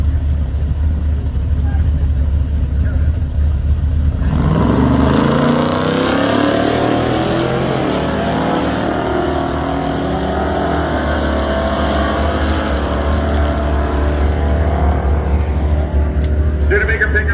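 Drag racing cars, including a 1972 Dodge Dart Stinger Edition, roar loudly at a racetrack, a powerful engine rising in pitch as it accelerates away, then a sustained, droning roar continuing close and loud throughout.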